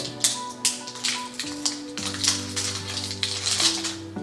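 Crinkling and tapping of plastic packaging around a portable door lock being opened, irregular handling sounds over a steady background hum, close by.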